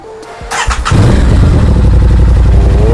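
A 2023 Aprilia RS660 being rebuilt after a crash cranks briefly, catches and settles into a loud, close, steady idle.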